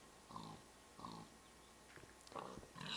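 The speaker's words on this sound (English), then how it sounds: "So if you slaughter a pig, you get pork chops." A Minecraft pig gives a few short grunting oinks in the game, two separate calls early on and more toward the end, faint and with no talk over them.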